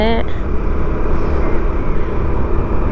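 A motorcycle ridden along the road to Tumakuru gives a steady, close engine and wind rumble that holds at an even level throughout, with a brief tonal sound at the very start.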